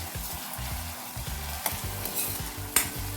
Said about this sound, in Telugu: ఆయిల్ వేడిస్తే మనం చూడండి ఉల్లిపాయలు, పచ్చిమిర్చి